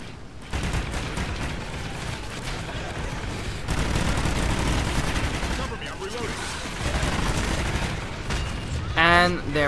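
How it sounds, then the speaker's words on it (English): Rapid bursts of gunfire in COD Ghosts Extinction, dense and continuous through the clip, rattling over a busy game mix with a brief chirpy tonal effect near the end. "we just put a few bullets in everything"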